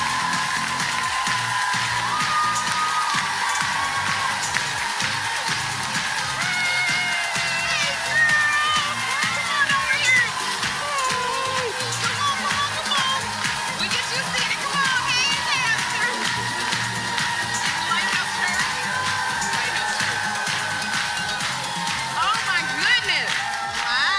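A daytime TV talk show studio audience cheers and applauds loudly and continuously as guests come out, a dense wall of clapping with whoops and shouts throughout.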